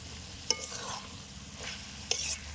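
Coconut milk curry of bagh ol being stirred in a pan, with a quiet simmering sizzle and two distinct scraping strokes of a spoon against the pan.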